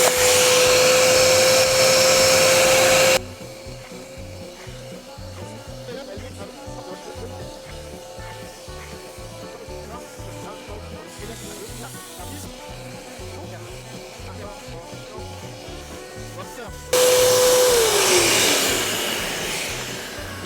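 Kärcher SE 4001 spray extractor running its vacuum suction, a loud steady whine that starts, holds for about three seconds, drops into a quieter sustained drone for most of the span, then returns loud and winds down at the end.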